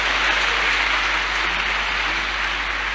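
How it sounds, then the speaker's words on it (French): Church congregation applauding and acclaiming Jesus during a worship service, a dense, steady wash of clapping filling the room for the whole stretch without a break. "On acclame très fort Jésus."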